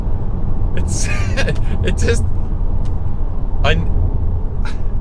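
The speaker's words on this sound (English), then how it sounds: "it just slams through the gears so fast" Audi SQ2 sports SUV with a 300 bhp engine accelerating hard and slamming quickly up through the gears, a loud steady engine and road roar throughout, with bursts of talk over it.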